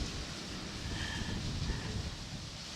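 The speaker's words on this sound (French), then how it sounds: "Putain le vent, je te dis pas." Steady wind blowing outdoors, a continuous broadband rush buffeting the microphone with low rumbling gusts, heard alone without talk.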